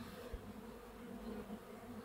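Honeybees on a hive frame during a transfer from a Miniplus to a Warré hive give a soft, continuous buzzing hum at close range, with a brief knock near the start.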